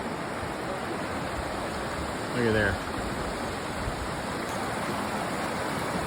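Steady rushing water from an alluvial fan waterfall and the creek below the falls in the Rockies, a continuous broad roar throughout, with a brief voice speaking over it.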